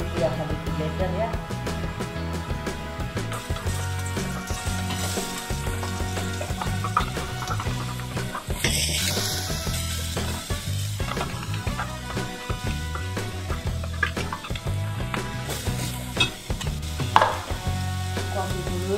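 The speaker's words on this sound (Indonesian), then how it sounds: "Menumis bumbu yang tadi di blender ya." Oil sizzles and crackles steadily as a blended spice paste fries in a pan for grilled chicken, with stirring scrapes and a dense, busy texture throughout, close and fairly loud.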